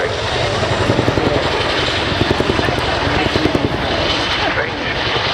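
An RAF Chinook helicopter flies a display at Cosford Airshow, its twin rotors producing a loud, steady rhythmic thudding beat over a dense roar of engine noise, close and continuous throughout.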